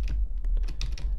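Keys on a computer keyboard are tapped in quick irregular clicks during play of the 1994 DOS game Sword Fight II, close and crisp over a low background hum.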